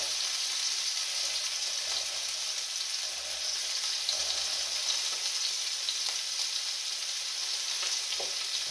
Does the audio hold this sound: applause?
no